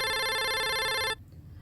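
A telephone rings with a bright, steady electronic tone for about a second before cutting off abruptly into quiet room noise.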